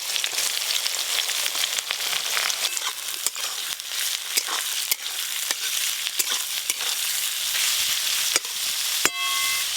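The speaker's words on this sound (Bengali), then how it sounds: "সর্ষের তেল দেবো কড়াতে, সর্ষের তেল, ফোড়নে দেব গোটা গরম মশলা, পেঁয়াজ কুচি" Chopped onion and whole garam masala frying in mustard oil in a kadai, a loud, dense, continuous sizzle close up, broken by frequent sharp ladle clicks and stirring scrapes.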